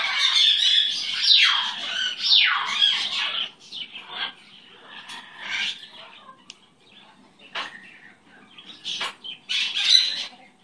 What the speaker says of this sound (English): You're the most adorable bird.